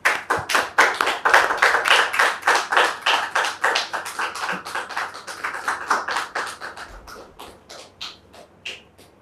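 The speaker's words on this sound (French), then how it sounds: "Dame Topé, sous vos applaudissements," A studio audience claps for a guest named Dame Topé, dense hand claps that start loud and full, then thin out and fade into a few scattered claps near the end.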